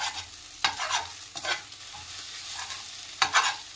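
Egg noodles fry in a pan while being stirred and broken into pieces. A quiet bed of sizzling is broken by several scraping strokes of a utensil, heard close with no voices.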